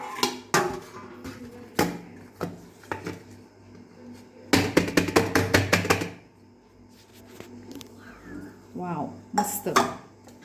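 Cooled dhokla loosened from its pan and moved onto a plate, with sharp metallic clinks and scrapes of utensils against steel dishes, a dense cluster of clattering in the middle; someone talks in between.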